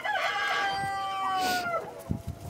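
Young chickens on a small Polish farm cluck and peep in a run of bright, rising calls, followed by a few soft thumps and shuffles close by.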